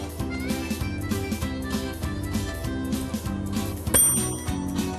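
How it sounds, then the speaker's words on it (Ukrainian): A bright metallic desk bell dings once during a card game, sharp and close, over a steady backdrop of tonal music. "дзвонимо в дзвоник"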